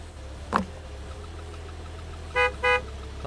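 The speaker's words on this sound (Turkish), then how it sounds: "ne basıyorsun kornaya? Dışarı araba mı geldi?" Two short, loud car-horn honks in quick succession from a vehicle outside a gas station in the video game Gas Station Simulator, sounding over a steady low engine hum, with a brief thump just before.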